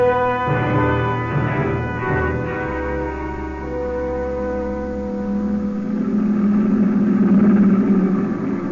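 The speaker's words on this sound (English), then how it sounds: "The first truck of the Nazi convoy roared around the curve and passed." A Nazi convoy truck in a radio drama roars around a curve and passes, a loud low engine drone that swells, holds and fades, with no voices.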